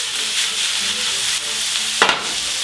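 Ground meat sizzles steadily in a hot pan as it browns for sloppy joe, a dense close frying hiss with a brief louder scrape of stirring near the end.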